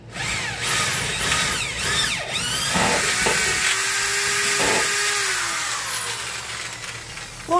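A handheld electric drill whirs up close in several short bursts, then holds a long, steady high-pitched run before winding down.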